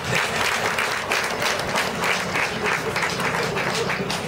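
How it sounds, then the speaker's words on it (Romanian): Steady, loud audience applause from a crowd at a public event, a dense continuous clapping texture with no speech over it. "Vă rog să aplaudați mai cu inima,"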